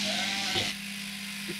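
A sheep bleats during shearing at a farm, a short nasal cry over the steady hum of electric shears, followed by a fainter second call nearby.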